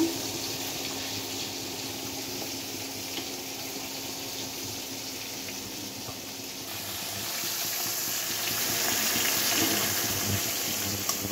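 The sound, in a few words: potatoes boiling in water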